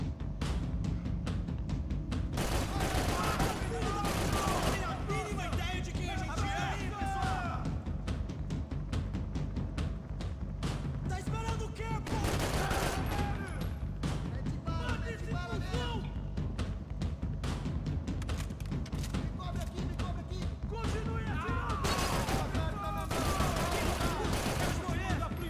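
Gunfire in the video game Max Payne 3, dense continuous bursts of shots and heavy firefights filling the whole stretch, loud and close with scattered impacts throughout.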